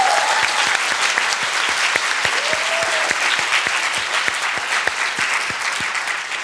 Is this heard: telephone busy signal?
no